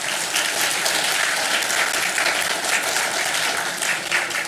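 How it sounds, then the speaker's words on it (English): Dense, steady audience applause at the opening of a Taiwan–Saint Lucia event, honoring young students who program robots, sustained and fairly loud throughout without talk. "They deserve a round of applause."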